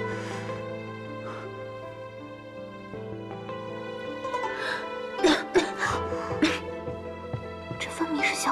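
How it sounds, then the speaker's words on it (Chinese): A woman's heavy, harsh coughing fits in a Chinese period drama, several sharp bursts arriving midway and near the end over soft sustained tonal background music. "姐姐，咳嗽的这么厉害，喝口茶吧"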